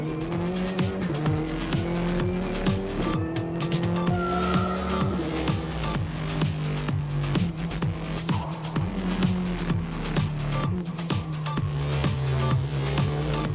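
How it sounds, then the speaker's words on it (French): A Renault Clio Cup race car laps the Nürburgring circuit, its engine revving up and down through gear changes, held close and loud with tires squealing through corners for the full run. "Vous êtes à bord de la Clio Cup avec Jean Ragnotti et nous allons faire un tour du circuit du Nürburgring"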